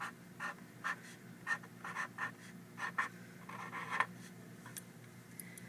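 A pen scratches out a word by hand on a paper foldable in short, quiet bursts of strokes with brief pauses between letters, close and soft.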